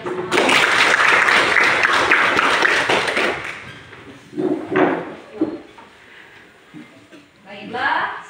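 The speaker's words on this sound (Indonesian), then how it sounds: "Ya, tepuk tangan dulu untuk kita semua." A seventh-grade class claps together in a short burst of dense applause lasting about three seconds, then it breaks off into a few scattered claps and bumps, with voices talking in the room afterward.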